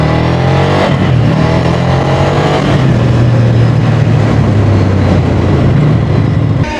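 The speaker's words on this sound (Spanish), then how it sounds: "vamos a sacar la moto, así de paso de una vuelta y les cuento." A motorcycle engine revving, loud and close, with a sustained low droning tone that rises and falls in pitch as the throttle opens, steady throughout with no talk.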